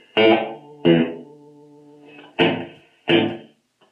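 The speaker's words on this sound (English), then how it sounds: "Fairly nasty reverb, okay." Short strummed electric guitar chords ring out through a backline amp's built-in reverb with a wet, splashy tail, four bursts separated by pauses.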